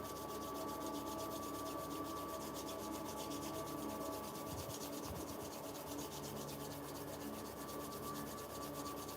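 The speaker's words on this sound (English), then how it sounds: "rubbing the palms together once again" Palms rubbed quickly together during a guided breathwork and meditation session: a steady, close, even rasping friction that continues unbroken, with no talking.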